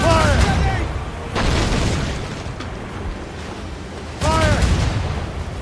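Cannons on a sailing ship in Assassin's Creed Rogue fire in three heavy booming volleys spaced a few seconds apart, each one sharp and loud, while crew voices shout over the blasts.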